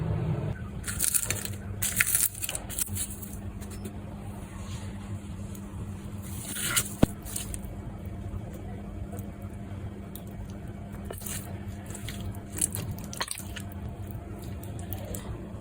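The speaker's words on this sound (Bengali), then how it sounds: "এখন এই টমেটোগুলি আমি সুন্দর করে একটু ভর্তা করে ফেলবো।" Roasted, peeled tomatoes mashed by hand, giving soft wet squishing and crushing bursts in irregular clusters, close up and fairly quiet against a faint background hum.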